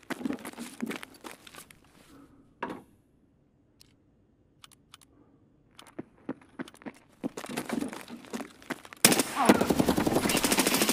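Escape From Tarkov gunfire: a few sharp isolated shots early, a long quiet stretch with faint clicks, then a loud sustained burst of automatic fire at the end, close and dominant.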